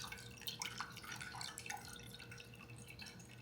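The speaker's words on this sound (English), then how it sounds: "I'm draining off the juice from it as much as I can" Juice from canned cherries draining out, a soft continuous trickle with light dripping and splashing, close and quiet with no voices.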